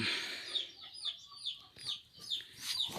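A fighting rooster called Black Swan clucks and calls in a quick series of short, rhythmic bursts, fairly faint and close, with no talking.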